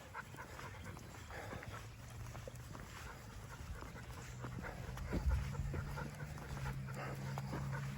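Several dogs pant steadily through a neighborhood walk, close and continuous, with a low constant rumble beneath and faint scuffs, no talking.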